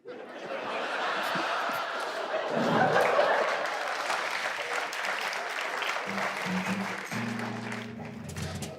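An audience in a comedy show hall applauds steadily, with some laughter mixed in, before the clapping thins and voices take over near the end.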